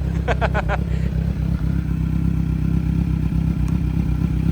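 A 2019 Kawasaki Z900 SE motorcycle with 24,000 km idles nearby, a loud steady low rumble throughout with a few faint clatters and brief knocks on top.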